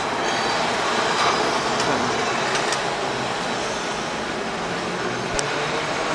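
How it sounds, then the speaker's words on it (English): A tram rolls past on a Milan city street, its steady rumble and rattle of steel wheels on rails loud and close, with a few brief squeals and clicks rising over the continuous noise. "More trams."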